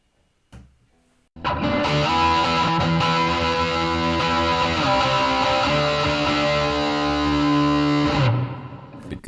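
An electric guitar through a real amp and miked cab, drenched in heavy reverb, rings out with sustained distorted chords after a short pick noise, then decays into a washy tail.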